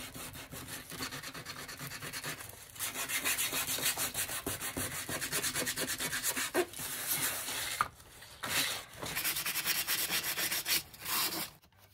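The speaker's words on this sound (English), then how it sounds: "here I go back and forth with the sandpaper again, distressing, de-stressing," Sandpaper rubbed back and forth over a painted Dollar Tree piece to distress it, rhythmic close rasping strokes with brief pauses between bursts.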